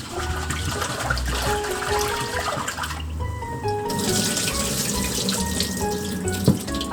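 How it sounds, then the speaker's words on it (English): Water runs steadily from a kitchen tap while 3 cups of rice are rinsed in it, with a continuous splashing rush and a few light knocks against the pot, and no voices over it. "And rinse the rice."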